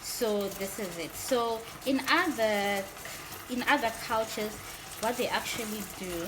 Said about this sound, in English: that noise is the meat frying on the other pot